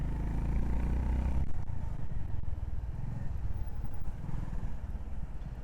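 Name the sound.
Honda H'ness motorcycle riding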